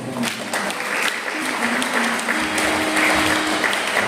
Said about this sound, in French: Nous applaudissons le Seigneur